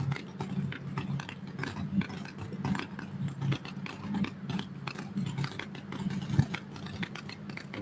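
Street Fuel Coupe nitro drag car at Mid-State Dragway, having trouble starting, its engine running with a low, uneven idle under sharp crackling ticks that continue throughout.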